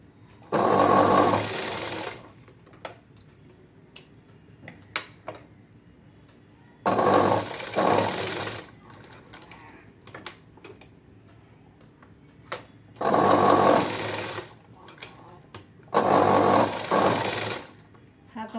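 A sewing machine stitches a border on a blouse of thin fabric. Four loud close bursts of rapid whirring stitching are separated by quieter pauses with faint ticks and handling, and no voices.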